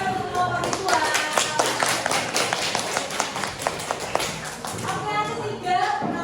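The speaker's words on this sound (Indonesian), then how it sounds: "tepuk tangan untuk kelompok visual" A classroom group of teachers claps for a presenting group, a modest round of distinct individual claps with voices mixed in.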